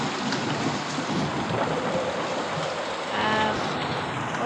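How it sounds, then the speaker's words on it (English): Steady rain pouring in a bird simulator video game, a dense constant hiss that fills the scene, with a low rumble swelling near the end that may be thunder. "But still raining, what the heck?"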